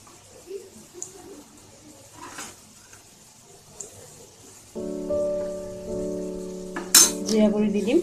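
Turmeric and cumin powder frying in hot oil for a rajma masala curry, a steady sizzle starting midway and continuing loud to the end, with faint clinks of utensils and quiet kitchen sounds before it.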